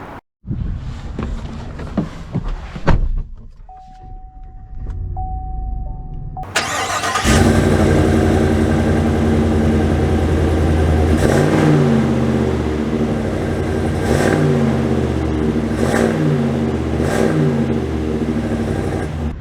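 A 2022 Chevrolet Silverado 3500 pickup with a 6.6-liter gas V8 fires up after a quiet pause with a soft chime, then revs and pulls away. Loud, steady engine drone with rising and falling acceleration surges, heard close from inside the cab.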